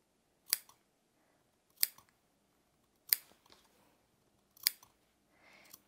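Scissors clip the fabric seam allowance of a shirt collar in five crisp, close snips about a second apart, each a sharp metallic bite in a quiet room.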